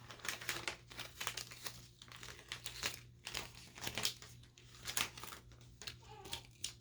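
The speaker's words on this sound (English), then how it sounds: "I forgot to pull all my tape off" Tape is peeled off an acrylic sign in a run of soft crinkling and tearing crackles, close and quiet, in irregular bursts with short pauses between them.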